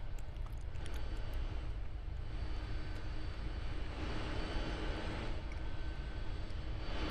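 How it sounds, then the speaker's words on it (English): A steady, continuous engine drone from an aircraft landing at Linewood Airport in the flight game Aeronautica, with a constant broadband rumble and whine at even loudness and no talking. "I am now landing at Linewood Airport."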